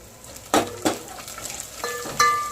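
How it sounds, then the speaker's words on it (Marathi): Spices with turmeric being stirred and sautéed in a pan for a village-style dal dish, with a few sharp scraping strokes of a spoon against the pan over a faint background sizzle. "सर्व छानपैकी परतून घ्यायचं"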